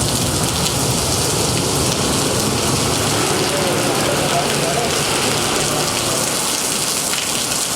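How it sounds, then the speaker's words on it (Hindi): Heavy rain pours down over Karachi in a dense, steady hiss that fills the whole stretch without pause, loud and close, with no speech heard. "कराची में बारिश की झड़ी लग गई।"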